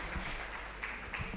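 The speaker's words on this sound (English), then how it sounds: "Once again, let's give them a round of applause." Brief applause from a public health grand rounds audience, a soft, even patter of clapping from a crowd lasting just over a second.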